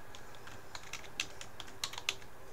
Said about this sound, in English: you can type in whatever name you want for this.